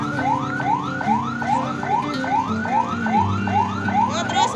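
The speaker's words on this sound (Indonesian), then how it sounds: "Ambulan maju." An ambulance siren wails in a fast, repeating rising sweep, loud and steady throughout with no talk, heard near a mountain bike trail at Ciletuh Geopark.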